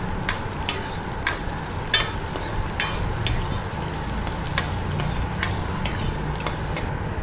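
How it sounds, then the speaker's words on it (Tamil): Large onions sauté in a pan for garlic kuzhambu, a constant close sizzle broken by regular spatula scrapes and clicks against the pan, roughly once every second, with no voices. "பெரிய வெங்காயம் கொஞ்சம் கலர் வந்துட்டு பொன்னிறமாக வர வரைக்கும் நல்லா வதக்கிக்கோங்க."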